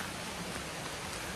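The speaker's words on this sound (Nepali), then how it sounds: "पानी पऱ्यो" Steady rain falls on a walk outdoors, a dense even hiss with no other sounds.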